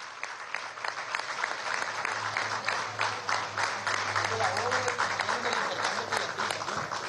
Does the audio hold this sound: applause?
yes